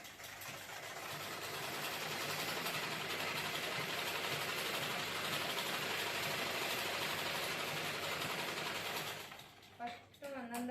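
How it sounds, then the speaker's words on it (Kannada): A sewing machine stitching a dress runs in one long, steady mechanical whir for about nine seconds, close and fairly loud, then stops as a voice speaks briefly at the end. "ಇದೊಂದು ಡ್ರೆಸ್ ಹೊಲ್ಯಾಕತ್ತೇನೆ ರೀ"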